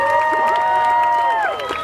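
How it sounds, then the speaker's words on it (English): Crowd cheers and whoops at a Disneyland Deadpool and Wolverine show, clapping under a steady wash of loud, close voices that stays full for the whole stretch and thins slightly at the end. "Oh, you guys can clap more than that if you'd like."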